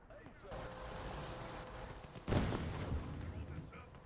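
In the Gates of Hell: Ostfront battle game, a Sturm Mortar round lands with a sudden heavy blast over sustained rumbling gunfire, the explosion booming loud then trailing off into continued firing.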